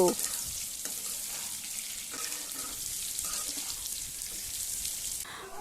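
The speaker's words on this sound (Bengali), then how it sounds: "আলুগুলোকে একটু ভালো করে লাল লাল করে ভেজে নেব" Potatoes fry in oil in a pan with a loud, continuous close sizzle and hiss that holds steady throughout, with faint stirring and no clear talk.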